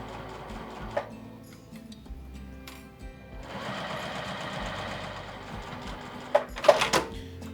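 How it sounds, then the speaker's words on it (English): A home sewing machine stitching along the open edge of a dress, a few short starts and stops, then a steady rapid whirring run of several seconds, close, ending with handling clicks. "I'm gonna sew together my open edge first, and then I'll go around and sew the other side."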